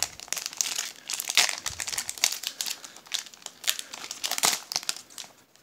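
A Pokémon Fates Collide booster pack being torn open by hand, with close, busy crinkling and tearing of the foil wrapper in rapid bursts, no talking.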